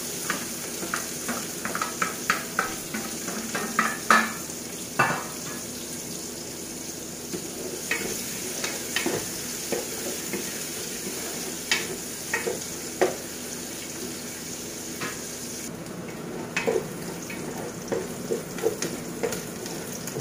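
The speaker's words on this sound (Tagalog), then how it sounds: "Ayan, at isusunod ko na po itong sibuyas." Chopped onions and garlic sizzle steadily in a hot pan for Filipino-style macaroni soup, with scattered spoon scrapes and clinks as they are stirred, close and continuous.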